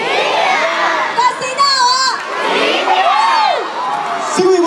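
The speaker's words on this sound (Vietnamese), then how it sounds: "Và một tràng pháo tay cho ca sĩ" A concert audience in Hai Phong cheering and whooping for a singer, a loud close crowd roar with shrill high voices rising and falling throughout.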